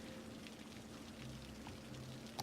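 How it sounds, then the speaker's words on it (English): Rain falls in the city-building game Cities Skylines as a steady, faint, even hiss with no pauses and no voices. "It likes to rain a lot here"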